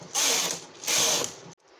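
Two quick passes of a knitting machine carriage sliding across the bed while knitting plain rows, each a rasping mechanical whir about half a second long, close and clear, followed by a soft click and quiet.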